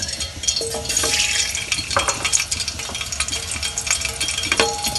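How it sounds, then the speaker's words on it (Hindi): Semolina stirred into ghee in a pan, with scraping and clinking from a spoon against the metal and a light sizzle, fairly close and busy, with no voices. "सूजी डाल रही हूँ"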